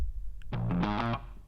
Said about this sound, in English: Let's listen to this distorted bass.